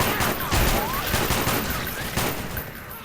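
Dense gunfire from the video game Left 4 Dead 2 rattles in a continuous, loud volley. Voices sit faintly under the shots.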